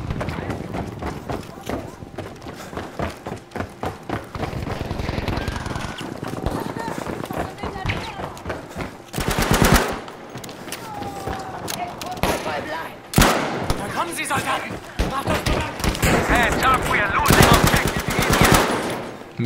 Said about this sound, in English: I think the Sten's my favorite metagun. It is just a fucking laser beam.